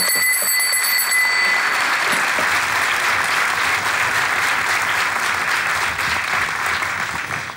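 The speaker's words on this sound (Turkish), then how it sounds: "Sizi alkışlıyorum arkadaşlar." Applause from a studio audience at a Turkish comedy show, a dense, steady roar of many hands clapping that holds at full strength and only eases slightly at the end.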